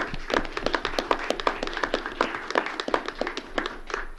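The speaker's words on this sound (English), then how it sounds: "Just give them a round of applause" Applause for rescue squad members at a county fiscal court session, a small group clapping with distinct, fairly sparse hand claps at moderate distance.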